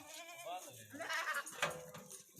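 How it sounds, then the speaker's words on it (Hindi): Goats bleat at a livestock market among teddy goats and sheep, a few wavering calls close by with someone talking over them. "और यहाँ पे ये देखिए टैडी बकरियाँ नाची वगैरह हर तरह का आपको यहाँ पे जानवर मिलेगा।"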